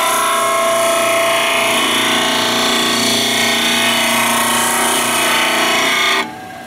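A shop disc sander runs continuously at steady loudness, a bright grinding whir with a worn disc that leaves the material blackened, then cuts off sharply near the end leaving quieter room noise.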